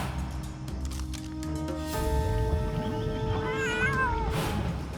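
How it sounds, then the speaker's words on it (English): Kittens in a cartoon meow in a rising, wavering chorus from inside a dinosaur costume, high cries layered over a busy musical underscore, steady and moderately loud with no talking over them. "It's Mayor Humdinger's kittens in that dinosaur costume."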